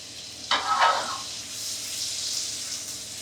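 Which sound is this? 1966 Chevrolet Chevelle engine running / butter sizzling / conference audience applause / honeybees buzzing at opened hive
butter sizzling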